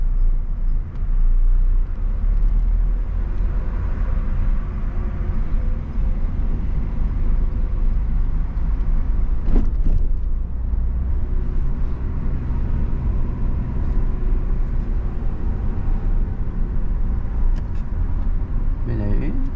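A car pulls away gently from a stop during a driving lesson, its engine rumbling steadily and close up for the whole stretch, with an instructor's voice talking over it.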